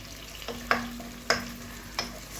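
Onions sizzle steadily in a pan, broken by three sharp clanks of a spoon stirring against the metal at a steady pace, with no voices.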